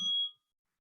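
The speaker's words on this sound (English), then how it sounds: "Second bell" A single mindfulness meditation bell is struck once, a clear bright ding that fades within a fraction of a second into silence.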